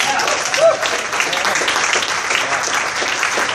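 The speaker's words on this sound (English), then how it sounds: "That deserves a round of applause." A crowd at a congressional campaign event claps steadily, a dense patter of many hands filling the room, moderately loud throughout.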